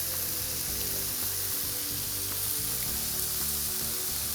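Steady, close frying sizzle crackles throughout, a dense hiss with faint low clatter underneath and no talking; a salmon stir-fry in a frying pan.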